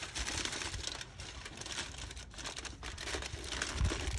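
Paper or tinfoil folded over like wrapping a present, a close continuous crinkling and rustling that runs steadily throughout with a few sharper crackles near the end.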